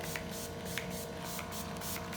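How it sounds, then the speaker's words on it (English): Disinfectant sprayed from a spray bottle for cleaning, several short hissing bursts in a steady rhythm over a constant background hum, close and fairly faint. "we're going to spray it just to kind of clean it up a little bit"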